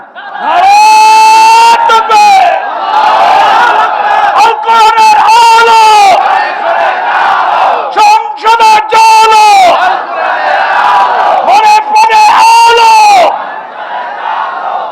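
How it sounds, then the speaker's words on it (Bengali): A large crowd at a religious waz gathering shouts takbir, Allahu Akbar, in loud repeated unison chants with a rising and falling rhythm, close and filling the space in waves. "তাকবীর দাও না মিয়া।"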